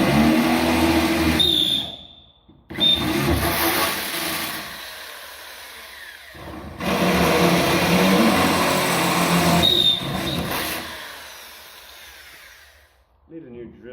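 A glitchy electric drill that barely works runs in several long bursts during prep work on a Nissan 200SX S14 drift build, its steady motor whine stopping and restarting with short pauses and a faint high squeal, heard close up.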